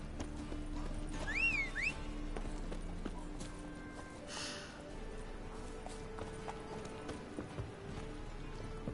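Horse hooves clip-clopping in The Witcher 3, a steady mid-distance rhythm under game ambience and music, with a brief whinny early on and no talk over it.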